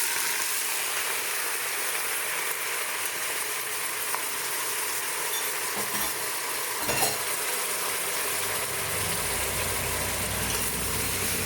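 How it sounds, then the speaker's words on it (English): Chopped onions fry steadily in hot oil for a lamb biryani, a loud, even sizzle and crackle that runs throughout, with a brief clatter of stirring partway through. "And then once they're ready to go in, you're going to plop in a lot of onions."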